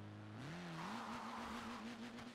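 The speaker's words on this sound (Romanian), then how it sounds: "Hai să vedem un launch control corect." A Trabant fitted with a scooter engine launches hard from a standstill, its engine note rising steeply then holding a loud, steady high drone, with a hint of tyre noise.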